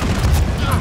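An RPG rocket explosion in Call of Duty Modern Warfare during a 10 vs 10 team deathmatch: a loud, close, broadband boom with a rumbling low end that fills the whole moment, with voices nearby.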